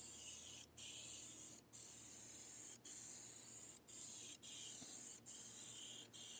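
Steady hissing spray from a can of gloss topcoat being applied to a car wheel, continuous and close, broken by about seven short pauses as the nozzle is released and pressed again.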